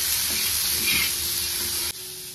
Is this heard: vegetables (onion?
yes